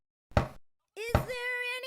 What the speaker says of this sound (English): he approached the castle's enormous doors and knocked as loudly as he could